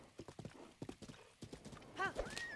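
Horses in The Legend of Zelda: Breath of the Wild, with quick hoof clip-clops followed by a whinny, faint and fairly close.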